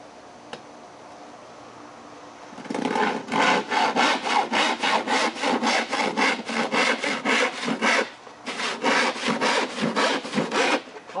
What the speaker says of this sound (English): Pretty easy with a good handsaw, although it splinters bad, so sometimes you want to score the back to get a cleaner cut.